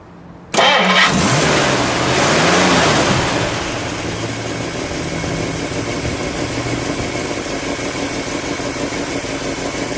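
A 1959 Plymouth Sport Fury with a 318 V8 fires up: a brief crank catches into a loud, revving start, then settles into a steady, throbbing idle nearby.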